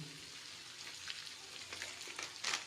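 Capsicum sizzles softly in a pan alongside tomato and onion for an aloo palak sabji, a low, continuous frying hiss with faint crackles and a brief louder stir near the end, no voices.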